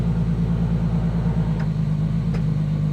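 A 1995 Ford Mustang GT engine idles close by with a steady, throbbing rumble as it is put into gear, with a couple of faint clicks over the drone; the car has a throwout bearing issue.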